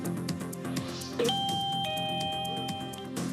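A hand bell rung for curbside voting chimes twice, bright ringing tones sustaining briefly against a quiet background.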